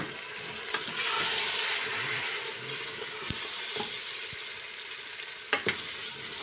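Mutton browning in a pan with onion and garlic for a curry gives a steady, close sizzle and crackle, with occasional clinks and scrapes as the meat is stirred.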